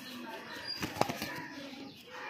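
A pigeon flaps its wings close by, a short flurry of soft beats centered in the brief, quiet clip.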